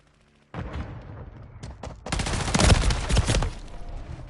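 Gunfire in a multiplayer military shooter, with sharp bursts and sustained automatic fire that swell into a loud, dense barrage of overlapping shots.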